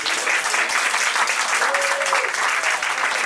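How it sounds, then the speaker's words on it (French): A seated audience at a literary festival in Paris's Goutte d'Or claps for the musicians, a dense, steady wash of hands beating without pause from start to finish, with a faint whistle rising briefly in the middle. "Merci à Thiago Théodat et Tutur, que je vous demande d'applaudir."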